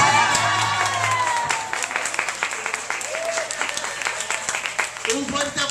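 Audience applause for amateur actors at a comic sound-effects activity, brief clapping that thins into scattered claps while people talk and a low hum runs underneath.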